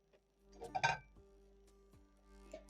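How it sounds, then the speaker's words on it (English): A cooking pan set down on a stove over a medium flame, a short clattering metal clink with a brief rattle, fairly close and moderately loud against a quiet kitchen hum. "So I'm going to pick a pan, place over medium flame."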